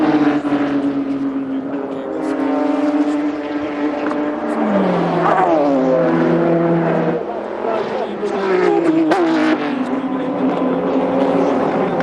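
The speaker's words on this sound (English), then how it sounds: "So there is the GT1 Corvette number 3 vehicle sitting second in the category behind their co-teammates." The GT1 Corvette race car, number 3, in American Le Mans Series racing, its engine a loud tonal roar that shifts pitch as it passes and changes gear, under continuous commentary.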